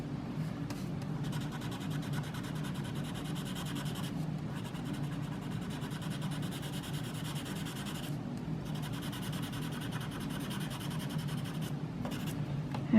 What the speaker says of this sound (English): that's what I've always done with the blender pencil